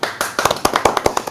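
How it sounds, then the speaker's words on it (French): Applause greeting a new guest at a pre-match gathering before the Nice versus Lorient football match, a brief burst of close, sharp, uneven hand claps with no talk. "J'accueille donc, sous vos applaudissements, messieurs, je compte sur vous."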